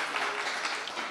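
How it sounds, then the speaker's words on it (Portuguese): Brief, fairly quiet burst of audience applause in a seminar hall, a soft patter of clapping hands lasting about a second. "Pode aplaudir, gente."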